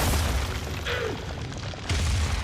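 A wall of stone conjured by Atlas in Warframe bursts in a single deep, booming explosion with an area blast, followed by a brief rumble and a second thud near the end, with no talking over it.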